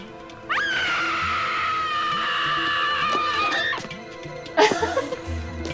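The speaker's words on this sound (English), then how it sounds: "That's a pretty good scream." A long, high, wavering scream in a failure sequence of the Sega Saturn game Double Switch, loud and sustained for several seconds, followed by a short sharp burst of noise.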